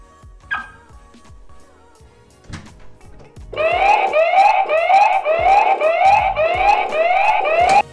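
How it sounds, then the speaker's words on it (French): Some faint thumps and a short beep are followed by a loud, pulsing electronic siren wailing in rapid repeating sweeps from a Xiaomi smart home security alarm. "Voici une démonstration de l'alarme en action."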